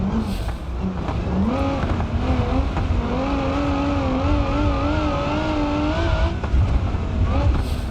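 Car engine in BeamNG.drive during an off-road time trial at Johnson Valley, a loud continuous drone with rising and falling revs throughout, no talking.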